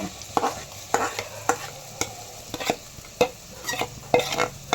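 Ground masala fries with fish in a pan while a spoon stirs it, giving a steady close sizzle under regular scraping strokes about twice a second.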